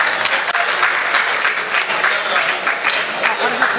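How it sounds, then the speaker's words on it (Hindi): An audience at a Saharanpur mushaira poetry gathering claps loudly and continuously, a dense sustained wave of applause welcoming a guest poet. "आपसे गुजारिश है, जोरदार तालियों से अपने मेहमान शायर का इस्तकबाल कीजिए।"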